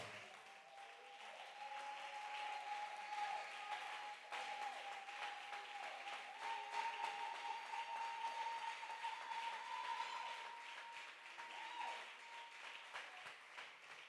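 A church congregation applauds during worship, a sustained, steady roll of clapping from many hands in a reverberant hall, with a held tone and voices faintly underneath.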